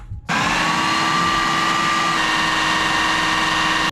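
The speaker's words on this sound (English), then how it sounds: "Let's put it on the blender and let's see what happens." A blender starts abruptly and whirs steadily at full power, mixing Pea-NOT-Butter ingredients in a loud, continuous drone with a slight pitch shift partway through, with no talking.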